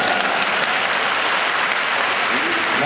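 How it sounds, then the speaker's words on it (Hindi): Dense, steady crackle of audience applause at a kavi sammelan poetry recital in Saifai, Etawah, filling the whole stretch evenly at close range with no pauses. "अब इनको तालियों में तब्दील करो।"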